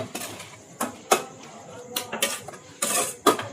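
Vegetables stirred in a pan for a Mexican dish: a spoon scrapes and knocks against the metal in irregular clatters, fairly close, with quiet gaps between strokes.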